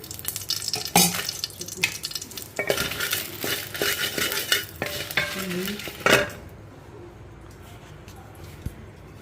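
Dried red chillies fry and sizzle in oil in a pan for pumpkin seed powder, with a spoon stirring and scraping against the metal in bursts before the sizzle fades to a quiet hiss.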